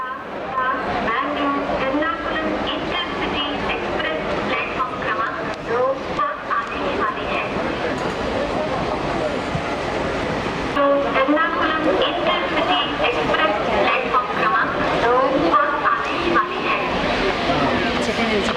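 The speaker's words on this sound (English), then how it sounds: "That's the early morning Jallapeta Bengaluru service, a WAM4 6P locomotive." A train hauled by a WAM4 6P electric locomotive rumbles steadily past at Bangalore Cantonment station for a long stretch, a continuous close rolling roar with someone talking over it and a dog barking at points.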